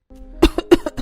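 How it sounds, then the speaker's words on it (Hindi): A cartoon girl coughs after forcing down dry, hard leftover potato paratha: three or four sharp, close coughs in quick succession, loud and alone with no talking. "2 निवाले खाते ही उसे खांसी आ जाती है।"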